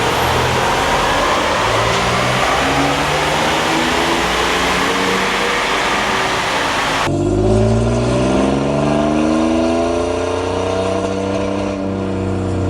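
A Ford F150 with a 3.0 Powerstroke diesel engine runs on a dyno, giving a loud, sustained close-up roar that climbs steeply in pitch through the second half as the revs build.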